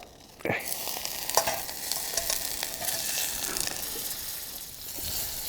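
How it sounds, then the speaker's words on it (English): Butter sizzles and crackles in a pan over low heat on a campfire during winter camping in a cook house, a steady close hiss that begins with a sudden onset and holds with small pops throughout, no talk. "I'm going to put a little butter in a pan here."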